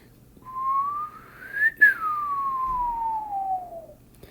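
A person whistles an imitation of a passing ambulance siren, one long tone that rises to a peak and then slides steadily lower, mimicking the Doppler shift. It is fairly soft and alone.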